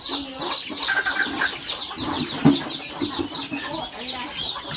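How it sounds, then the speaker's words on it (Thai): Ducks and chickens on a farm in rural Thailand cluck loudly and continuously in a busy, overlapping chorus, with a sharper squawk near the middle. "จักเป็ดจักไก่สนั่นเลยพี่น้องเลย"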